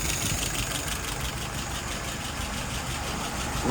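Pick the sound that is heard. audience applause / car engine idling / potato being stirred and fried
car engine idling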